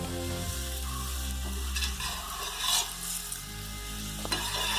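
Oil poured around the edges of a potato-spinach paratha on a griddle sizzles softly and steadily, with occasional light scraping and clinking of a utensil against the pan.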